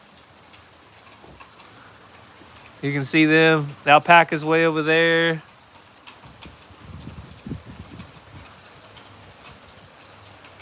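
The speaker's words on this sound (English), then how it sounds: "Man, we've needed this rain so bad." Rain falls steadily outdoors on a farm where cows graze, making a faint, continuous hiss throughout. Someone talks briefly over it partway through.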